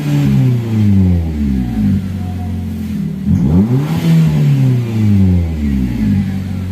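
Nissan X-Trail engine revving as the gas pedal is pressed, rising and falling in repeated swells from a steady idle, loud and close with no talk.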